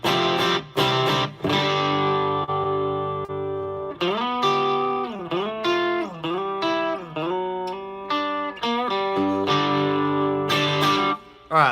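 Distorted electric guitar through an amp with plate reverb, playing sliding, bending notes and short phrases, with a lingering reverb tail filling the gaps between notes.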